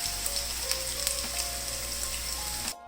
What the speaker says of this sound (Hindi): चपली कबाब मैंने फ्राई होने के लिए रख दिए हैं, और इसको हल्की आग पे हम फ्राई करेंगे